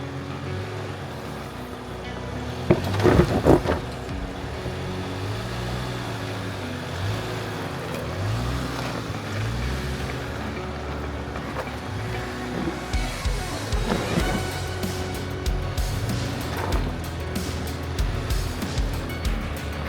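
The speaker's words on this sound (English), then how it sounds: "we're gonna go off-roading for the first time in the 2022 Big Bend Bronco." A 2022 Ford Bronco Big Bend crawling off-road along a trail on aired-down tires, a steady low engine rumble with rising and falling revs and crunching movement, with talk heard briefly.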